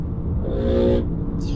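A loud KTM motorcycle passes by outside a Honda HR-V 2023 hybrid, its engine swelling to a strong droning peak and then fading, heard alongside someone talking.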